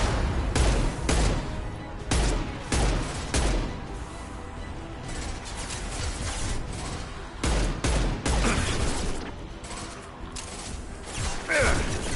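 Gunfire in the video game Mass Effect 2 comes as loud, repeated bursts of shots in clustered volleys, with mechanical clanks between them and no talking.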